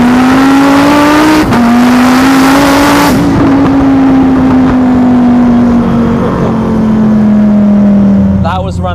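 Car engine making around 1,800 horsepower revs loudly up close, a strong steady tone that rises, drops sharply at a gear change, then climbs again before fading near the end.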